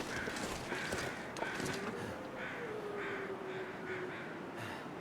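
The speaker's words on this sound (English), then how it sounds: "Those weren't bear crows." Crows caw in a survival video game, a few harsh calls repeating over steady background noise, fairly faint and with no talking.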